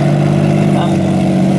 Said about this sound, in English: Here's the noise of that Rolls-Royce engine as it goes round.